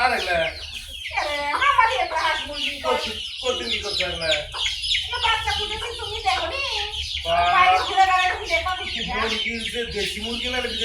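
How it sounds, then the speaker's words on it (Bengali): Local desi village hens cluck and chatter close by in a busy, continuous run, with people talking among them. "দেশি মুরগি না বিদেশি"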